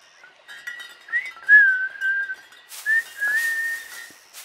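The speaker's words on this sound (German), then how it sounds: "Leute, da pfeift jemand!" Someone whistles a short tune, clear sliding notes in a few phrases close by, with a brief rustling burst partway through.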